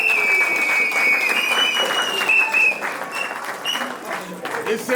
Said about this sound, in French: Applaudissez pour les Mindele